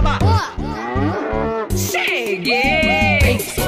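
A cow mooing loudly and close, long drawn-out bellowing moos that run almost continuously, with no one talking over them.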